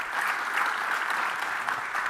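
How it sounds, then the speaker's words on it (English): A large audience at a government summit session claps in a sustained, even burst of applause, many hands filling the hall with a steady patter and no speech over it. "Round of applause, please."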